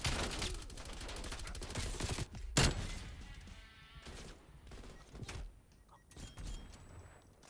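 Gunfire from a weapon in the video game Call of Duty: Cold War crackles in rapid bursts, loud at first and then thinning into scattered shots and mechanical clicks, with no one talking over it.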